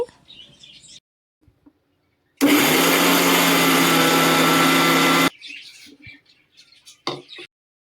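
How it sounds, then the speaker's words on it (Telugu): A mixer grinder whirs loudly for about three seconds grinding peanuts for peanut butter, a steady harsh grinding roar, with quiet handling noises and clatter before and after. "నెమ్మదిగా మిక్సీ పట్టుకోవాలి"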